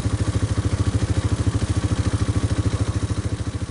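Motorcycle engine running on a motorcycle converted into a boat, chain-driven pulley setup; loud, close, steady rapid chugging pulses with mechanical clatter, no talk.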